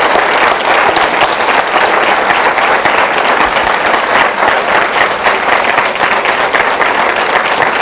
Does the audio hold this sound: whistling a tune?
no